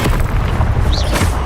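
A Confringo fire spell explodes in the video game Hogwarts Legacy, a loud, close booming blast with a crackling fiery burst that fills the short moment.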